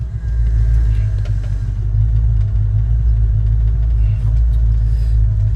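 A car engine, fitted with a newly installed tachometer, rumbles steadily and loudly up close as the car pulls away, holding a continuous low drone with no talk.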